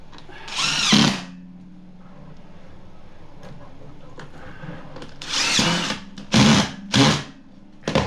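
A power drill drives drywall screws into plywood while bar stools are recovered, giving four close whirring bursts: one at the start, then a pause, then three more in quick succession.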